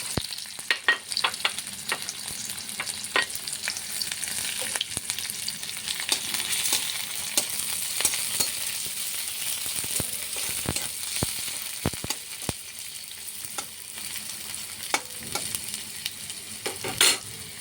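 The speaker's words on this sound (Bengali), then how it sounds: "এখন পেঁয়াজ, রসুন, পেঁয়াজ একসঙ্গে ভেজে নেব।" Onion and garlic fry in hot oil in a pan, sizzling steadily throughout, with clear scrapes and taps of a stirring spoon against the metal. No one speaks.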